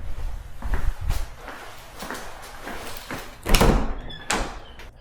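A closet door in a model home opens and closes. Several dull thumps and knocks are heard at close range, along with light shuffling footsteps, and no one speaks.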